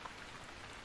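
Steady rain falls in the survival video game Stranded Deep, a faint, even hiss of drops with no voices.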